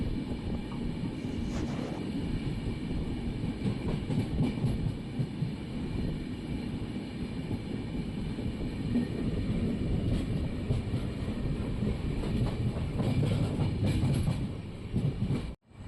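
Steady rumble of a moving train near Arsikere Junction, Karnataka, with continuous low-frequency rolling noise and faint rhythmic rattling, filling the clip without any voices.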